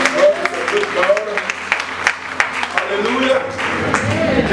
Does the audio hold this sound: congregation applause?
yes